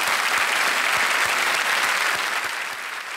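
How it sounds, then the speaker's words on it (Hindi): Loud, sustained studio audience applause for a guest on a televised quiz show, thick clapping throughout with a few heavier beats, easing slightly toward the end. "डॉक्टर साहब, एक बार फिर तालियों के साथ"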